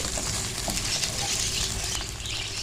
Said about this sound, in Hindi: प्याज हमारा भुन गया, सॉफ्ट हो गया ये